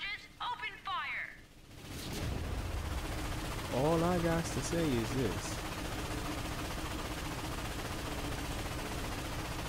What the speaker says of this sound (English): When the cannon charges, open fire.